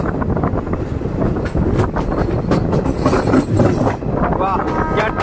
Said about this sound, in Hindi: वाह क्या ट्रैक साउंड आ रहे हैं ट्रैक चेंजिंग के।